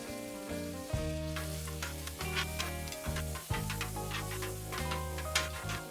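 Onions and a couple knobs of butter sizzle on a Weber Slate flat-top griddle, a steady close hiss with faint ticks that runs without a break beneath background music.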